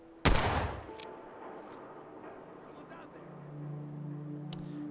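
A sharp, loud gunshot burst aimed at raiders in Fallout 4 opens the moment, followed by a fainter distant shot or two and low ambient hum.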